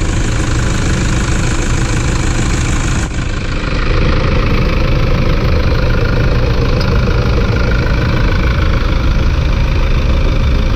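A Toyota Fortuner 4×4 engine idles steadily and loudly with a low rumbling drone and slight knocking texture, a small shift in tone partway through, no talking.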